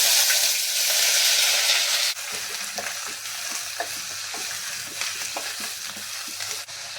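Green chillies, curry leaves and onion hit hot coconut oil in a pan for a chicken curry, a loud, dense sizzle that settles into a steady crackling fry, with occasional stirring scrapes and no talk.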